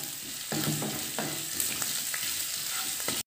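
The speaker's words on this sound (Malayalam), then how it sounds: "ഇതിൻ്റെ പച്ചമണം മാറുന്നിടം വരെ ഒന്ന് മൂപ്പിക്കാം" Green chillies fry in hot oil with ginger-garlic paste and salt for a date pickle, a loud continuous sizzle broken by several scraping stirring strokes, close and without voices.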